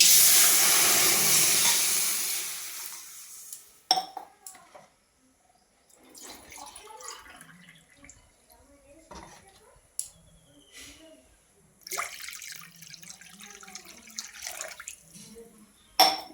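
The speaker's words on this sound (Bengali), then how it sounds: "এরপর দিয়ে দেবো আমি দু কাপ জল" Two cups of water poured into a hot wok on a gas stove burst into a loud hissing steam that fades over a few seconds, followed by quieter clinks, a faint hiss and scattered handling sounds.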